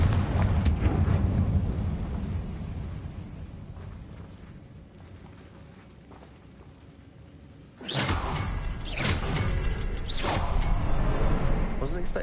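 A Confringo explosion spell in Hogwarts Legacy bursts with a sudden loud blast, followed by several more whooshing, crackling detonations over a rumbling game soundscape, with quieter ambience before the blasts.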